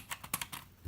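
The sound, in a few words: typing on Obins Anne Pro wireless mechanical keyboard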